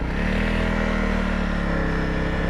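Motorcycle on a cold, wet trail ride in Finland, a steady close engine drone with a throbbing low rumble held throughout as the bike moves off.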